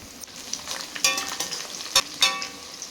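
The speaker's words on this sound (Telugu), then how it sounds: "ఉల్లిగడ్డని గోల్డెన్ బ్రౌన్ కలర్ వచ్చే వరకు వేయించుకుందామండి." Onions frying in a pan for mango mutton curry, a continuous close sizzle broken by several scraping stirs of a spatula, with no voices.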